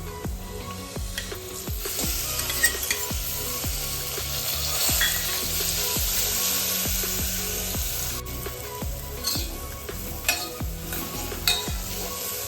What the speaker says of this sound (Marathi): आता आपण जे वाटण केलं आहे ते घालून घेणार आहोत